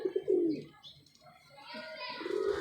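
Pet pigeons coo softly at close range in a few low, rolling bursts, with quiet gaps and faint chirps between them.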